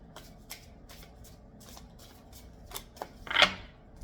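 Tarot cards being shuffled loosely by hand, a series of soft riffling flicks spaced through the quiet, ending in a louder burst of cards slapping together.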